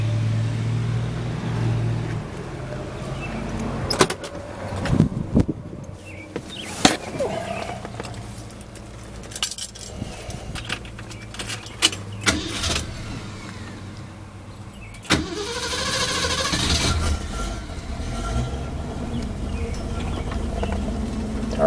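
A 1969 Ford Falcon wagon engine cranks and turns over, then runs with a steady rumble as the air conditioning compressor runs, interrupted by clunks and bumps, loud and close.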